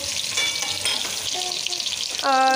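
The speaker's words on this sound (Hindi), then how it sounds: "प्याज को जो है हम अच्छे से फ्राई करेंगे" Onions frying in a pan for an aloo baingan dish give a steady, close sizzle with stirring scrapes all through, ending in a brighter burst of sizzling.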